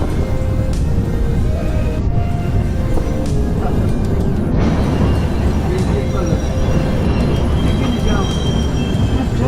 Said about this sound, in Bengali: রক্সোল দিল্লি সদ্ভাবনা এক্সপ্রেস।